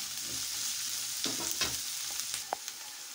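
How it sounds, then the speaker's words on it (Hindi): Onion frying in a kadhai gives a steady broadband sizzle throughout, with a few spatula scrapes and stirring clicks standing out near the middle and end. "अब देख सकते हैं मैं इस प्याज को अच्छे से फ्राई कर रही हूँ।"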